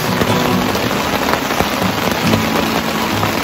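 Heavy rain pounds down at a lunch stop at Rawa Embik on Mount Argopuro in East Java, a dense, loud, unbroken hiss of drops striking surfaces with no voices.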